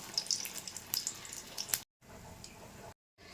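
Orange malpua batter fries in a pan, with a faint sizzle and small crackling pops for nearly two seconds, then a quieter low hiss broken by brief cuts of silence.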